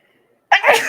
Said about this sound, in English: I might sneeze because I'm battling